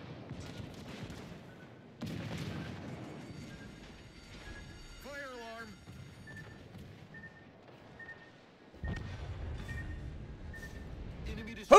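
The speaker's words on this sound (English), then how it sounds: "Thank God my secondaries are actually shooting." Battleship secondary guns firing in World of Warships Legends, heard as scattered muffled reports and rumbling blasts under game alert tones and chimes. A heavier burst lands near the end of the clip.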